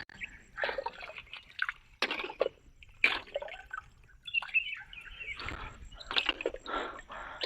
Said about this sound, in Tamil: தண்ணி ரொம்ப கம்மியாக வருது.